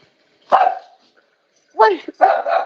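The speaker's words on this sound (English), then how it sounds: "What are you barking at? You don't even know." A dog barks sharply up close, one bark followed by a quick pair after a pause, with quiet in between.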